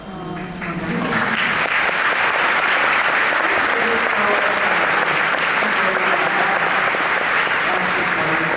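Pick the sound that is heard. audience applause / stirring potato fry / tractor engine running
audience applause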